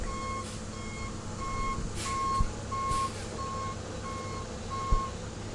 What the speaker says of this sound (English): there's a truck backing up